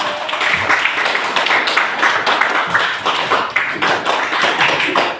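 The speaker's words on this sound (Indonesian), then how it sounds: "Kita berikan tepuk tangan untuk kelompok 3" Steady applause from a classroom of students, dense overlapping claps filling the whole stretch at a constant loudness with no talking.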